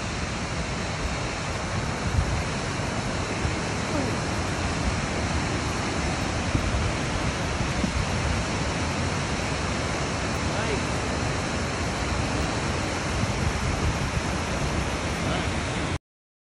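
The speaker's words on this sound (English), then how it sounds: "we're going to check out this mini waterfall" A mini waterfall beside a river trail at Taughannock Falls, New York, gives a loud, constant broadband roar of falling water that fills the whole stretch evenly, close to the microphone.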